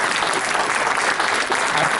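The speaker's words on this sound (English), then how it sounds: "I want to give you a round of applause." An audience at an assembly claps in a dense, steady round of applause that holds at an even level throughout.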